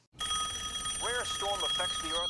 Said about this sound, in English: Mom, the phone's ringing, do you hear it?